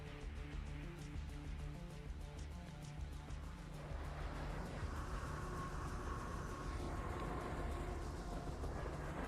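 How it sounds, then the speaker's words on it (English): A train rumbles past in the video game Buffy the Vampire Slayer, a steady loud roar of rolling rail noise that swells and holds throughout with no talking. "Let's grab this crystal and wait for the train to go by."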